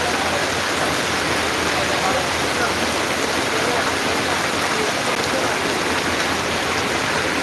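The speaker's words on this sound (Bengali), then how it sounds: "প্রচণ্ড বৃষ্টি হচ্ছে বৃষ্টির মধ্যেও কিন্তু তেরপাল টাঙিয়ে বিয়ের অনুষ্ঠান চলছে" Heavy rain pours onto a tarpaulin stretched over a village wedding, a loud, dense, unbroken roar of falling water with no gaps.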